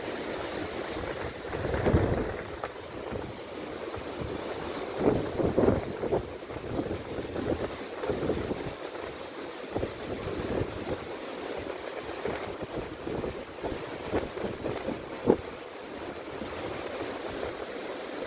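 Strong hurricane-force storm wind buffets the microphone on a winter day by the sea in Antalya, Turkey, a continuous roaring rush with gusty surges and low rumbling, with no voices.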